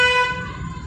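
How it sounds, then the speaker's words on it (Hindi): Car horn held down in a long steady blare that fades slightly, heard during a driving lesson, with a low road rumble beneath. "लॉन्ग हॉर्न पुश करो इसको"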